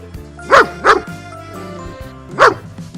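A German shepherd, a large, strong, agile dog, barks loudly three times: two quick barks close together, then a pause and a third bark.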